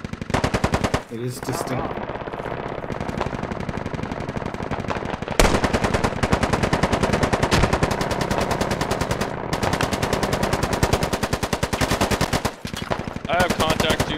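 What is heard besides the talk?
machine gun fire in a video game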